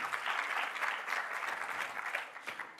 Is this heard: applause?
yes